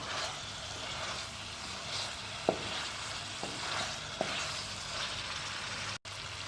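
Chicken tikka frying in a pan on a stove, a steady close sizzle with a few sharp clicks of stirring, no voices.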